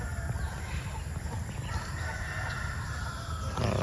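Chickens cluck softly on a small farm with pig pens, a faint, steady scatter of fowl calls from nearby birds with no talking.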